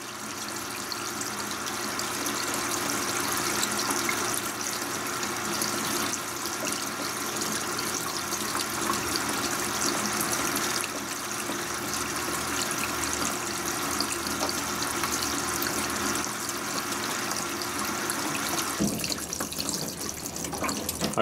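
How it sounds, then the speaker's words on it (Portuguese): A Brastemp 16kg top-load washing machine (BWK16AB) fills with water and fabric softener, giving a steady, close, continuous rush of pouring water that runs unbroken and changes tone briefly near the end. "Agora vocês viram que ela parou ali o spray e ela tá liberando o amaciante."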